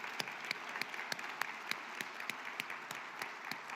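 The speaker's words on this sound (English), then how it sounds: "I think we can start applauding right now" Audience at an OECD Global Forum opening applauding a Ukrainian minister, quiet and distant, with sharp, individually distinct claps repeating at a steady pace over a soft crowd wash.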